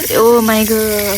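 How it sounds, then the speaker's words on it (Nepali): Very cold water from a tank runs steadily while fresh mint leaves are washed under it, a continuous splashing rush heard beneath a loud spoken exclamation. "यसरी यो पुदिना धुँदाखेरि"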